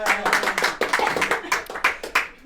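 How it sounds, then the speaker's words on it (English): Audience clapping for a speaker at a community group event, a burst of quick, irregular hand claps from a modest crowd, fairly close and steady for a couple of seconds. "give her a clap"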